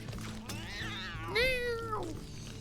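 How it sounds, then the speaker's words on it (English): A cat lets out angry, drawn-out meows, two wavering yowls close to the mic over a low steady background hum. "Angry cat noises."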